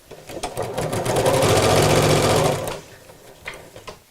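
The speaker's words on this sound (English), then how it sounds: "I'm going to carry on sewing right from the edge of the bias binding where it's folded." A sewing machine stitches along the folded edge of bias binding, a close, rapid mechanical whir that builds to a steady run and then slows and stops, followed by a few faint clicks.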